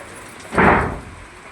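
Heavy monsoon rain hisses steadily, broken by a sudden low, rumbling swell like a thunderclap that fades within a second.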